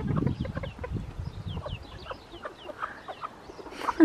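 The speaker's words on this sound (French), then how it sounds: "il y a une maman et ses petits poussins là-bas." A hen clucks and chirps near her small chicks in a chicken coop, with bright peeping calls scattered over the soft clucking.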